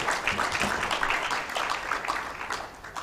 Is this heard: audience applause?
yes